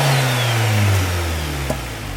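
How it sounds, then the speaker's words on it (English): A Stage 3 tuned VW MK8 Golf R, a hybrid-turbo car making 535 hp, revs up with a deep droning engine note that climbs and then eases back toward idle. The engine is close and loud, with no voices. "I'll give it a few revs once it's warmed up"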